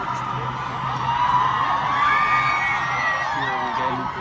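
A student protest crowd cheering and whooping outside Sydney Town Hall, a steady, fairly distant swell of voices that rises in the middle and fades slightly, with a siren-like tone drifting above it.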